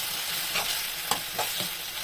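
A spoon stirs a sizzling mix of chilli sauce, soy sauce and tomato ketchup for mushroom manchurian, giving soft scraping strokes over a steady quiet hiss.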